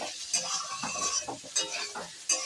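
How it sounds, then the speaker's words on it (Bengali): Potatoes and mixed vegetables fry in a pan for sabudana pulao, a steady sizzle broken by a few sharp scraping stirs and clinks of a spatula, close and fairly loud with no voices. "আলুটা দিয়ে আমি আর একটু ভাজবো।"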